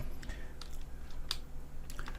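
Someone presses computer keyboard keys while modeling in 3ds Max. A few sparse, quick clicks sit over a steady low hum, close but fairly soft, with no speech.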